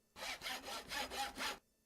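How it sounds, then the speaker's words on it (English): Sawing from a Minecraft modpack plays in a steady run of about six rhythmic rasping strokes, evenly paced and fairly quiet, with no talk over it. "listening to the endless sawing and hacking"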